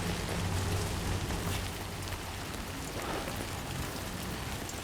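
Timefall rain in the Death Stranding 2 video game pours steadily as a dense, even hiss of rainfall with a faint low rumble beneath, no voices.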